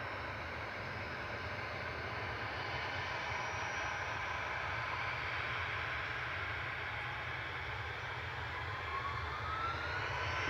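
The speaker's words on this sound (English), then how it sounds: "EasyJet to Belfast going." An EasyJet jet airliner departing Manchester Airport for Belfast gives a steady, moderately distant jet engine roar, a broad continuous rumble with a faint rising whine near the end.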